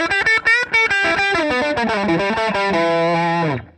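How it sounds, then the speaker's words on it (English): An electric guitar through a classic Fender-style overdrive plays a quick run of gritty, distorted picked notes, then settles into a sustained chord that rings out and cuts off. "I get like a classic overdrive pedal Fender sound"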